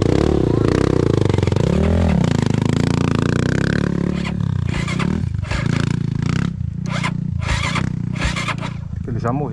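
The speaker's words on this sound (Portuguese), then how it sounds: "Ele já morreu, a moto aqui" Motorcycle engine on a mountain road droning loudly, then sputtering and cutting out with clattering and scraping bursts as it dies, while people talk over it close by.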